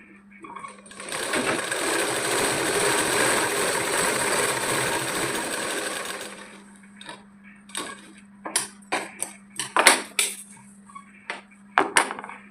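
A sewing machine stitches a child's petticoat top in one continuous whirring run of about five seconds, then stops, followed by scattered close clicks and handling taps of the fabric and machine.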